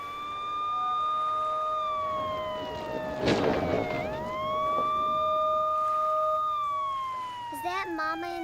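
An ambulance siren wails in long, steady rising and falling tones, loud and close, with a sharp burst of noise midway and a brief clatter near the end, while a voice speaks over it at times.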